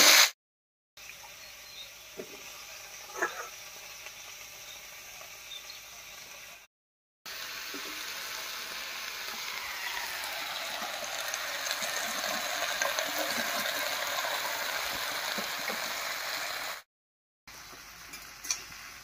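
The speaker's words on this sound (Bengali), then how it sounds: "কুমড়ো আর পুঁই শাকটা দিয়ে একটু নাড়িয়ে নিয়েছি।" Pumpkin and Malabar spinach stir-fry in a pan, a steady close sizzle with occasional scrapes of a spatula, broken by a few short silent gaps.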